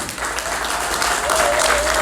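A large audience claps steadily and loudly at a formal ceremony, the applause sustained throughout with a faint tonal whistle or voice rising above it near the end.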